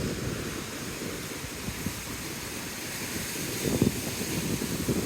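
Rough Atlantic Ocean waves wash steadily against a volcanic rock shore on northern Tenerife while wind buffets the microphone, a continuous low roar with no voices.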